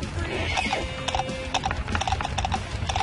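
Horse hooves clip-clopping in Skyrim, a quick, steady run of hoof strikes close up and loud, with faint mechanical clatter and no talking.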